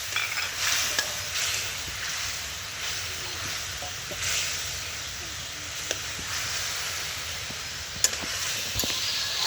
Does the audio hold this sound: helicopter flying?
no